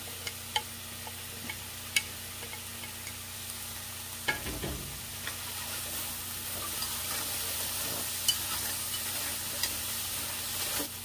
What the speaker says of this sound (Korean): 가지가 어느 정도 구워졌으면 양파를 넣어주세요.